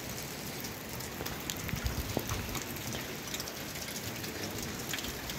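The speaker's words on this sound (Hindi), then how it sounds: "भारी बारिश हो रही है दो दिन से यहाँ पर।" Heavy, steady rain falls in the Kumaon hills near Binsar, a dense continuous patter with scattered nearby drips and splashes and no voices.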